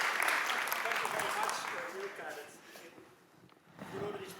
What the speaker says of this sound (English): Yes, a very big applause for you.